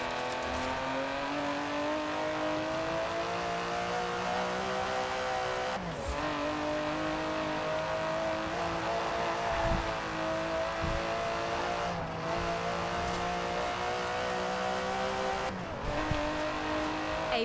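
Aston Martin DB11 with a 5.2-litre twin-turbo V12 in Forza Horizon 4, its engine roaring steadily through long pulls with gear shifts and brief dips in revs, loud and continuous throughout.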